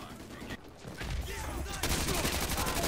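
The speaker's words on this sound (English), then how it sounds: "There's a lot of shooting going on." Gunfire crackles in a Modern Warfare 2 Campaign Remastered battle, rapid repeated shots building into a dense, fairly quiet fusillade of rattling bursts mixed with other combat noise.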